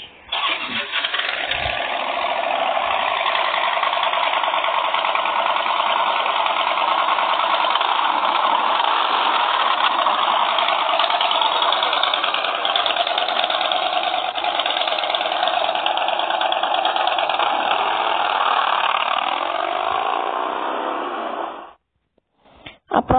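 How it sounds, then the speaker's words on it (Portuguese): A Harley-Davidson motorcycle engine runs steadily and loud for about twenty seconds with a rough, continuous rumble, then cuts off abruptly near the end. "A próxima moto que eu vou mostrar pra vocês é a Harley Davidson Dian Wild Gibbage."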